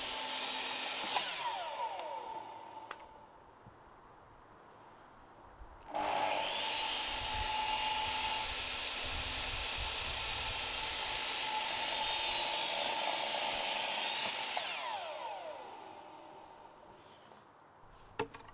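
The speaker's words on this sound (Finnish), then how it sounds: "Sirkkelöidessä kannattaa aluksi ajaa puun pinta kevyesti rikki ja sitten vasta sirkkelöidä puu poikki kokonaan." A circular saw cutting through timber while framing a roof structure: a brief spin-up, then a long, loud, steady whining cut from about six to fifteen seconds that fades as the blade winds down, heard close with no talking.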